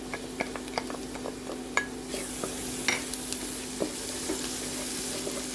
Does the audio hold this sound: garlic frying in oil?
yes